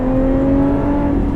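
A 2018 Lotus Evora 410 Sport engine revs close and loud, a steady droning hum with strong tonal whine held for just over a second, no voices present.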